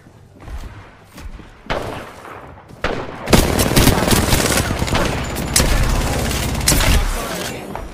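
A dense fusillade in the battle royale shooter Apex Legends builds from scattered shots into a loud, continuous stretch of close rapid gunfire and impacts, with occasional bursts of speech among the shooting.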